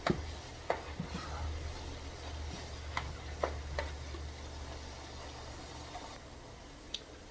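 Sausage fries in a pan for a Tuscan soup, giving a low, soft sizzle that runs steadily throughout. A few light clicks and taps fall at irregular intervals, and no one speaks.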